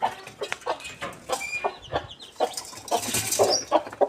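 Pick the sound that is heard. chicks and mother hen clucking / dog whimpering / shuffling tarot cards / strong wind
chicks and mother hen clucking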